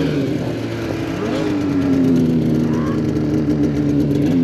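A Polaris off-road vehicle with a fresh crate motor and fresh injectors revs close and loud. Its engine drone holds steady, then climbs in pitch as it picks up speed.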